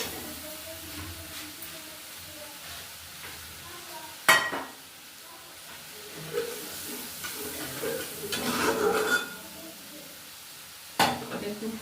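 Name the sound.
bitter gourd curry cooking in pan after adding water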